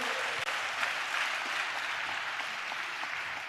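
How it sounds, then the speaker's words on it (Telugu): Church congregation clapping together, a dense steady wash of applause lasting throughout, moderately loud with no voices on top. "ఆ సిలువ కొరకు చప్పట్లు కొడుతూ స్తోత్రాలు చెప్దాం."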